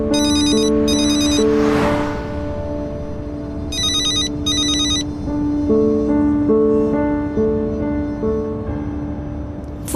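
A phone rings with a synthetic ringtone melody, loud and close, repeating in short bursts of bright tones over a sustained musical backdrop.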